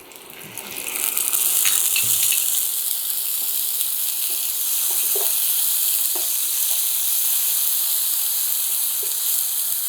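Ginger garlic chili paste sizzling in a hot pan while cooking vegetable biryani, a loud, steady frying hiss with a few small pops and stirring scrapes early on.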